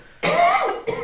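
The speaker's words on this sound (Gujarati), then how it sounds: "ઉધરસ ને ઉબકા જેવું થઈ ગયું છે." A woman at home coughing after a party meal, feeling queasy: a single harsh burst of about half a second, close and fairly loud, with a shorter second cough following a pause.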